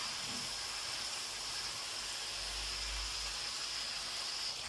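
Sliced onion rings sizzle steadily in a pan for shawarma, a continuous close hiss of frying without pause and no talking.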